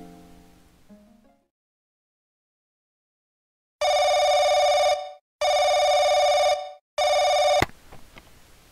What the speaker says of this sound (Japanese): はい、お電話ありがとうございます。